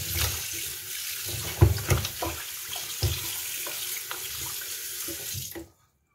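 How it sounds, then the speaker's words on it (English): A kitchen tap runs steadily while a whole chicken is washed with vinegar and water, the hiss broken by splashes and thumps of handling, then the flow cuts off abruptly. "I'm going to wash the chicken."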